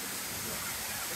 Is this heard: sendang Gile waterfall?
yes